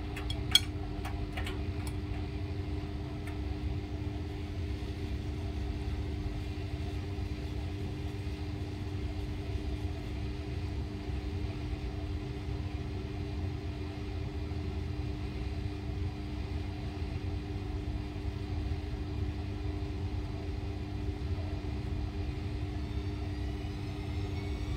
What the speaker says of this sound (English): it just comes down for its spin and then it cranks up back up to the high spin speed again